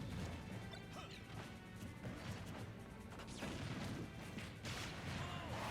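Ridley's smash attack landing in the fighting game Super Smash Bros Ultimate: loud, heavy crashing impacts burst out of a dense, busy wash of game sound, with a second strong hit near the end.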